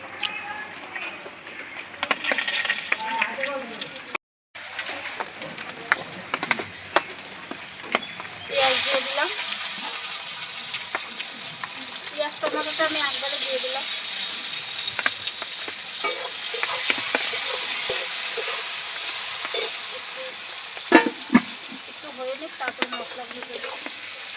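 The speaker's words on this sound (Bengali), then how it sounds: "এবারে তেলের মধ্যে দিয়ে দেবো দুটো শুকনো লঙ্কা দুটো তেজপাতা আর গোটা গরম মশলা" Dried red chillies, bay leaves and whole garam masala drop into hot mustard oil for a biryani, setting off a loud, close, sustained sizzle with stirring scrapes, while a person talks over the cooking.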